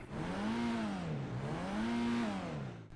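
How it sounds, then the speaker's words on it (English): Engine of a Grotti Brioso 300 in GTA 5 Online, a fairly large rear-mounted engine, revving up and down twice in steady swells, close and loud with no talk. "even though it's sporting a fairly large engine in the back, it doesn't have the nicest sound as you heard"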